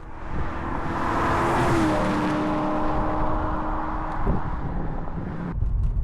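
A Maserati Coupe GT 4200 with a manual gearbox drives along, its engine a steady, throaty drone from inside the cabin with road and wind noise and a brief easing of throttle near the end.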